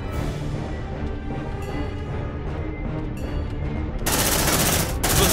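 Sustained suppressive gunfire in Aliens: Dark Descent rattles continuously at close range, then swells into a louder, harsher barrage for the last second or so.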